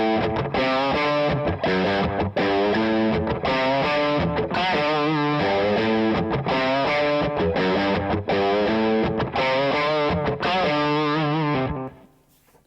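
Electric guitar through an amp with slapback echo plays a driven, distorted rhythmic riff of repeated chopped chords, loud and close, stopping abruptly at the end.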